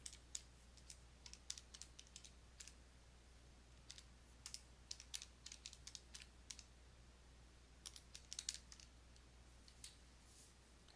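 Numbers are tapped into a calculator with quiet, irregular button clicks in short clusters against a faint steady hum.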